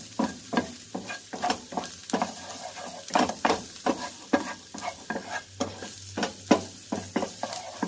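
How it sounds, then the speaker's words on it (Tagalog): Onions frying until golden brown for fried rice, a low steady sizzle under rhythmic, repeated stirring strokes that scrape and tap the pan, close by with no talking. "Antayin muna natin na golden brown yung onion guys ha, para bumango"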